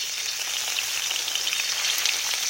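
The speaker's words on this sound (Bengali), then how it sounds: "এবার ডিমটাকে ভেজে নেব, সুন্দর করে ভাজবো।" Eggs fry in hot oil in a wok, a steady, bright sizzle and crackle with no talking.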